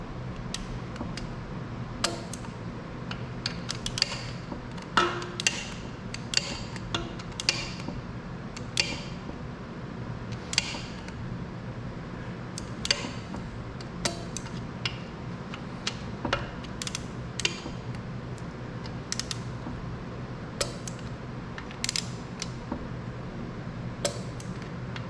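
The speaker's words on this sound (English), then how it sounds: "get the torque wrench. I torque these to 18 foot-pounds." A torque wrench tightens bolts on a Turbo 400 transmission: scattered sharp ratcheting clicks at an uneven pace over a steady low background hum, close and without talk.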